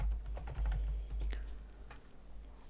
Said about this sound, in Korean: 미음 누르고 한자키 눌러서 별표 그 다음에 관리 대상이라고 입력합니다